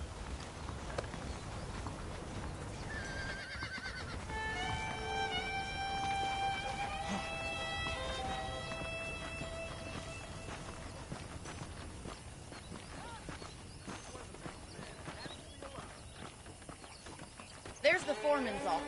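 Horses in the video game Red Dead Redemption clip-clop along with repeated hoof beats, and a whinny breaks out near the end, under game music and a voice speaking.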